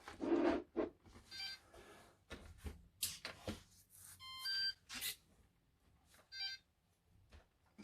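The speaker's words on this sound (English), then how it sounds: "That's beeping because I've not used the radio yet." A GT Power 1/14 RC truck multi-function control unit gives short electronic beeps at scattered intervals, faint and close, amid quiet handling clicks and bumps.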